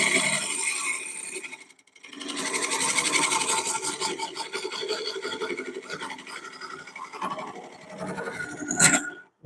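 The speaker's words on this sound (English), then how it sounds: "you can do a scraping cut with a gouge" A gouge takes a scraping cut on an oak burl bowl spinning on a wood lathe, making a continuous dry rasping scrape. The scrape pauses briefly early on and ends with a sharper, louder pass.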